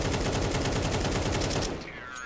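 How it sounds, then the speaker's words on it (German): Rapid automatic gunfire spray from a Counter-Strike 2 match, a dense continuous burst of shots, loud and close, that cuts off and drops away near the end. "Also das war ein wilder Spray und wahrscheinlich haben die einzelnen Schüsse auch nicht viel Schaden gemacht"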